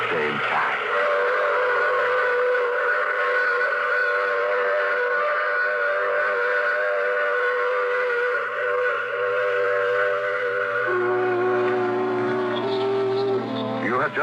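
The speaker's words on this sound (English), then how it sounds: "I take this same train every week at this same time." Old-time radio drama train effect: a steady, loud locomotive rumble with sustained whistle-like tones running throughout, shifting pitch near the end, with no speech over it.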